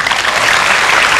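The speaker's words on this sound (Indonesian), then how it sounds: "Kita beri tepuk tangan sekali lagi." Dense audience applause from a large crowd at a community event in South Jakarta, a steady wash of many hands clapping together at full loudness for the whole moment, with no voices standing out.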